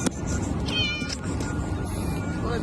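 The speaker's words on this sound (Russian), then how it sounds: "А вот и кошки на таком огромном складе." A cat meows in a huge warehouse, a single short mew rising over steady broadband background noise.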